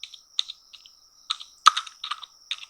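Close, crisp keystrokes on a computer keyboard as tags are typed into a field, coming in short irregular bursts with brief pauses between them and no voices.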